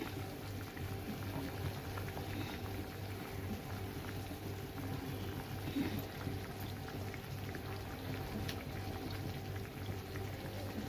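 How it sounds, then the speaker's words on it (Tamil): Sankara fish curry simmering at a steady boil in a pot, a soft continuous bubbling and gurgling that stays even and fairly faint throughout, with no talking. "இப்போ மீன் குழம்பு நல்லா கொதிஞ்சிருச்சு"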